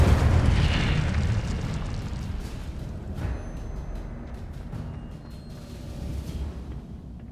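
An Incendio fire spell in Hogwarts Legacy bursts out with a loud whooshing flare that decays into crackling, fading fire and scattered small pops.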